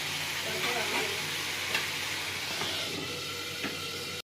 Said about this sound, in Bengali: মশলাটা একটু ভাজা ভাজা হোক,